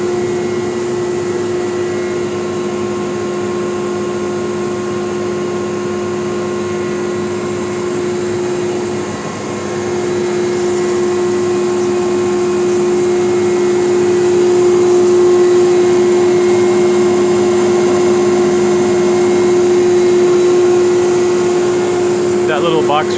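An ABB vacuum pump unit running steadily, a constant droning hum with a strong tonal whine, close and continuous for the whole stretch.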